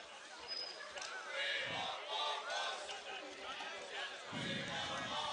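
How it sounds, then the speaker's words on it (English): A crowd at a 2017 hardcourt bike polo world championship final chants "We want Bob Ross" in rhythmic swelling bursts, heard from a slight distance with mingled voices. "Crowd chanting, "We want Bob Ross.""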